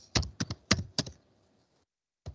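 Four quick keystroke clusters on a computer keyboard, each a crisp double tap, then a pause and one more tap near the end, close and clear with no talking.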